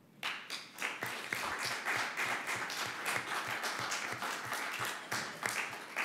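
An audience at a conference on European microstates breaks into steady applause after a lecture, dense and continuous hand claps lasting the whole stretch with no talking over them.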